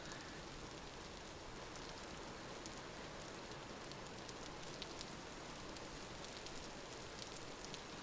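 Steady, faint rain patters continuously in the Vintage Story video game, an even hiss of drops with occasional sharper ticks and no voices.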